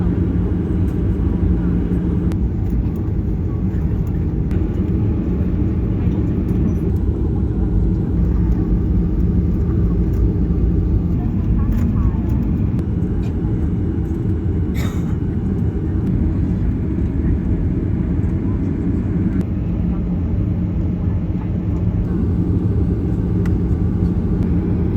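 A Malaysia Airlines Boeing 737 cabin before takeoff holds a loud, steady low engine rumble and roar, constant throughout with a few faint clicks and brief sounds over it.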